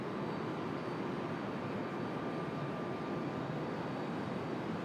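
A Delta airliner arriving from Orlando at Raleigh-Durham International Airport, a steady broadband jet rumble and hiss heard from a distance, unbroken and without talking.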